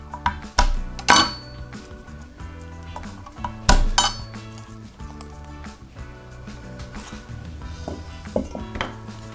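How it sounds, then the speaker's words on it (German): Garlic cloves being trimmed and crushed with a knife edge on a cutting board, with sharp knocks and thuds, knife clinks and faint squishing, scattered irregularly across a quiet kitchen. "Knoblauch, beide Seiten anschneiden. Der Messerkante rauf und anditschen. Und dann könnt ihr die Haut richtig gut und schnell abziehen."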